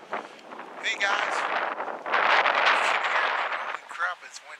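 Strong wind on an ice fishing trip in Pennsylvania buffets the microphone in loud, roaring gusts that rise and fall, with a voice speaking briefly under the blustery noise.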